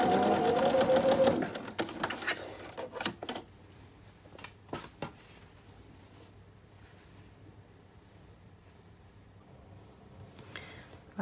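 Sewing machine stitching a fabric scrunchie, a loud dense run of stitching for the first second or so before stopping, followed by scattered soft clicks and handling noises in a quiet room.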